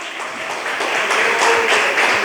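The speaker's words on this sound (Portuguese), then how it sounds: "Pode aplaudir a Jesus." A church congregation applauding, a dense, steady wash of many hands clapping together at close range and fairly loud, with some rhythmic pulses in it.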